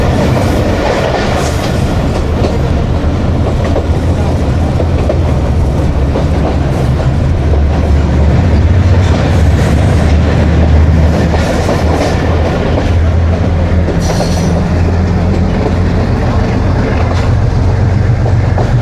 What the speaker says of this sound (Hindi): ट्रेन हमारी बढ़ रही है द ग्रेट रिवर इंडस की तरफ